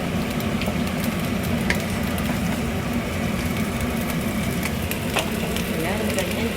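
Dinner frying in a pan while being stirred, a steady close sizzle and crackle with faint scraping from the stirring, continuous and fairly loud throughout.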